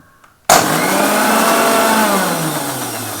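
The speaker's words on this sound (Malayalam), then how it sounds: "നമ്മൾ മിക്സി അടിക്കുമ്പോൾ ഒരു കാര്യം ശ്രദ്ധിക്കേണ്ടത്, ആദ്യം നമ്മൾ കുറച്ച് നേരത്തേക്ക് ലെഫ്റ്റ് സൈഡിലോട്ട് വിപ്പ് എന്നടിച്ചിരിക്കുന്ന മോഡിലോട്ട് നമ്മളിട്ട്" A mixer grinder blending mayonnaise in whip mode starts abruptly after a brief quiet moment, then runs as a loud, steady motor whine whose pitch slowly drops as it churns.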